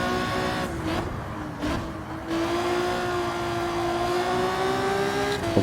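Car engine revving in the racing video game Gran Turismo 7, a loud sustained engine note that dips briefly then climbs steadily in pitch as it accelerates, with no talking over it.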